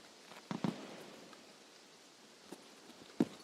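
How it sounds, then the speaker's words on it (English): Light rain patters softly in Escape from Tarkov on the Shoreline map, a faint even hiss broken by a few sharper nearby taps. "Sounds like a light rain coming in."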